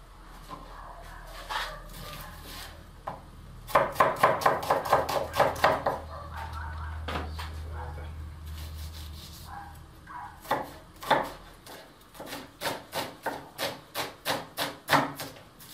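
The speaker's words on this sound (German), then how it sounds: "Den Zwiebel da mal schön klar schneiden" Knife chopping onion on a wooden board, a series of quick crisp taps in bursts with short pauses, close and fairly loud, with a low hum underneath.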